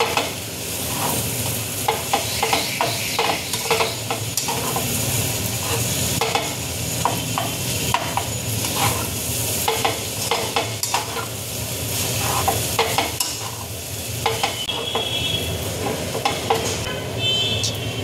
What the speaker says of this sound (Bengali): আমি মিশ্রণটাকে ভালো করে নাড়বো